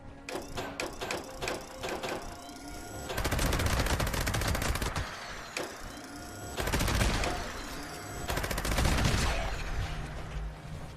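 Automatic gunfire rattles in a video game, with quick separate shots at first and then long sustained bursts that stop and start three times, loud and close, mixed with mechanical clicks.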